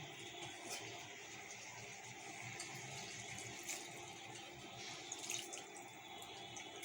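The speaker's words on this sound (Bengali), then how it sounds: "এবার মশলা ধোয়া বাটি জল দিয়ে দেব।" Rinse water from a spice bowl is poured into a pan of simmering fish curry: a faint continuous watery splash and trickle, quiet and steady, with no one speaking.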